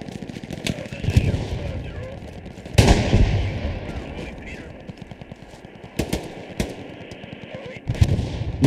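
Machine gun fire in the World War II shooter Hell Let Loose, rapid bursts of loud automatic shots with sharp cracks and echoing booms, broken by short pauses, with a voice talking over the gunfire.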